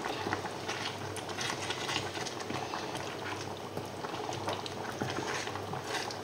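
Salmon risotto with parmesan simmering in a pan, a steady soft bubbling and crackling patter that continues evenly and close by throughout, with no talking.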